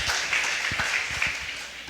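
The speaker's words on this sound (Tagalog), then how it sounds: "Isang malakas at matunog na palakpak sa ating Diyos na buhay." A church congregation breaks into applause, a dense, steady wash of many hands clapping at moderate loudness that continues evenly for a couple of seconds.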